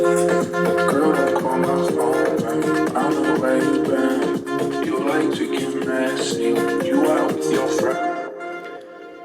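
Full Afro house electronic loop of punchy drums with a steady sampled kick and hats under a layered synth melody, playing continuously before the high end drops away near the end.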